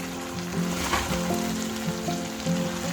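Pangasius fish hits a pan of thickened sauce and sizzles steadily, a close, continuous frying hiss with faint stirring clicks and no talking.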